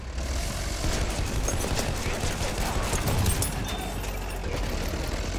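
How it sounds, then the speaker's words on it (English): Enemy machine gun fire in the video game Battlefield 1, heard as a dense, continuous rattle of gunfire that holds steady, like a distant battlefield fusillade. "Machine gun! One of theirs!"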